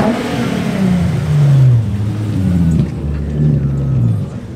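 A car with an aftermarket exhaust revs up and down repeatedly at a car meet, a loud, rough rumble rising and falling in pitch nearby.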